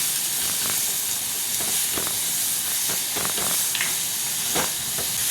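Prawns cook with tomato and salt in a hot pan, producing a steady, close sizzling hiss with scattered faint crackles and pops throughout. No one speaks.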